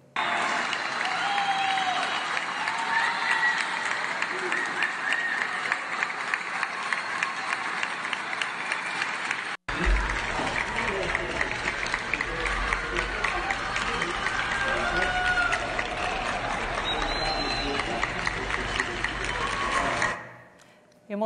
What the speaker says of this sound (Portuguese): Vamos aplaudir os agentes de saúde maravilhosos.